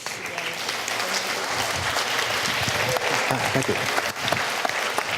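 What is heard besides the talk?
audience applause welcoming a speaker to the stage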